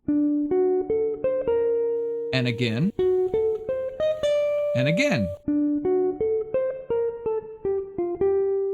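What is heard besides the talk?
guitar playing bridge melody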